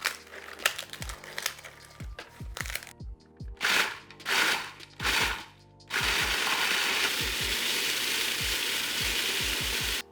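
Stale bread is ground into breadcrumbs in a blender, first in short choppy pulses with rattling chunks, then a continuous loud whirring grind, close up with no talking.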